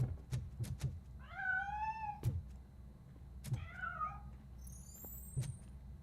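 Cat meows in the RoboCop Rogue City video game, two drawn-out wavering calls over low rumbling game ambience, with a few sharp knocks and a brief high chirp near the end.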